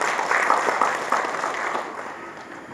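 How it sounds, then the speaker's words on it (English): An audience at a tech event in Bengaluru claps for a speaker, a short burst of applause with a few distinct claps standing out before it fades away. "Please give him a big round of applause."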